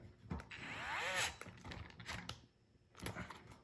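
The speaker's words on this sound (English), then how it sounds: "And we're gonna tighten the screw down." Tool tightening a screw on a wooden or plastic window blind being repaired, giving close scraping and ratcheting clicks in short irregular bursts.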